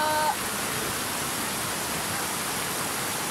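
The Bekok river in a Malaysian forest recreation area flows with a steady, dense wash of rushing water, loud and close and unchanging throughout, and a brief tonal sound is faintly heard at the very start.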